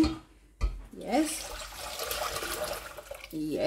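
Water pouring into a cooking pot on a stove, a continuous splashing gush that sits close and moderately loud. Brief voiced sounds come at the start and again near the end.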